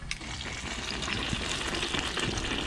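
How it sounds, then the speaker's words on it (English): Duck heart fries in hot oil, a dense, steady sizzle and crackle close by with no voices. "We're gonna fry the heart real quick."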